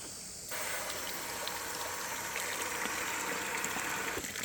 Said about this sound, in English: The water, let it fill up.